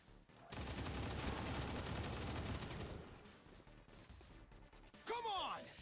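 Rapid gunfire from soldiers in XCOM 2 Long War of the Chosen, a dense sustained burst lasting a few seconds, followed by a shorter crash and whooshing sweeps, with game speech over it.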